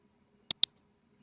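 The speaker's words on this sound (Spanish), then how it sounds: "aquí le doy clic en el botón." Two sharp computer mouse clicks in quick succession, followed by a fainter third click, close and isolated in a quiet room.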